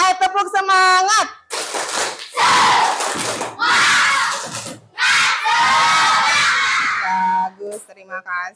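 A class of children shouts a loud morning cheer in unison, their voices rising in energetic bursts as a group; an adult voice is heard briefly at the start and again at the very end.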